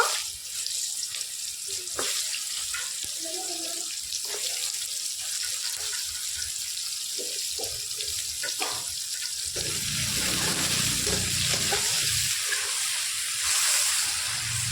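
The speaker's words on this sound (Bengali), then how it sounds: "মাছ ভাজার তেলের মধ্যে প্রথমে আমি এবার ঝিঙেগুলোকে ভেজে নেব।" Sliced ridge gourd fries in hot mustard oil left from frying fish in a kadai, giving a continuous close hiss and sizzle that grows slightly louder and rougher toward the end, with no talking.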